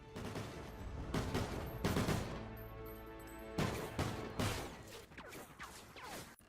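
Burst-fire marksman rifle shots in Call of Duty: Ghosts multiplayer, several loud, close blasts in spaced groups over a busy game backdrop, with no talk.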